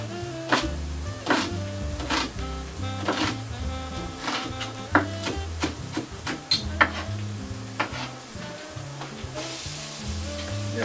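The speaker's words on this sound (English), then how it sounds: "Now notice we've got a sizzle going on with our pan." A pan sizzles and crackles steadily as celery and onion cook, with repeated scraping knocks of a utensil stirring in a loose rhythm, close by and without talk.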